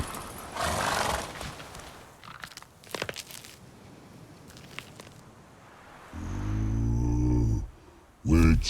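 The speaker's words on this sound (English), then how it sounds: "Whoa there, Roach" Roach, a horse in The Witcher 3, gives a snorting whinny and a loud blowing snort after scattered hoof thuds and rustling, close and alone with no talk.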